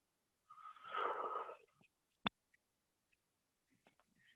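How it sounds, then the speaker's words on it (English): A single drawn-out yawn with breathy, wheezing air, close and quiet, followed by a faint click and a few tiny mouth noises in an otherwise silent space during a qigong jaw-relaxing exercise. "you yawn bigger"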